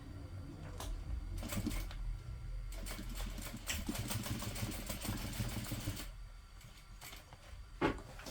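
A sewing machine stitches a bag, its quiet mechanical whir running in several bursts separated by short pauses, with a few sharp clicks at the end and no talking.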